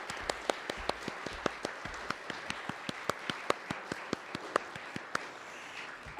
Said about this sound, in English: giving the candidates a round of applause for coming here this evening